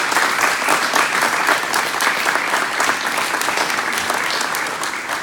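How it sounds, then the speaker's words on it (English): A crowd at a team gathering applauds, a dense and sustained burst of many hands clapping that stays loud and even throughout. "Let's give each other a round of applause"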